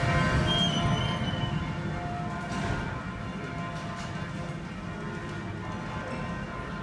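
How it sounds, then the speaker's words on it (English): Resonant bell tones ring out over a dense, steady wash of background noise, sustained and fairly distant throughout. "Bells are ringing."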